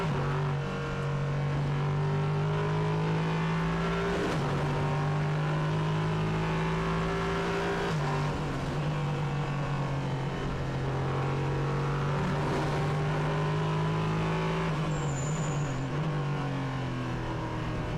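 Nissan 5.6 litre V8 race car engine on the Hockenheimring circuit during a Prototype Cup race, a loud continuous roar with rising revs and brief dips at gear changes, sustained throughout.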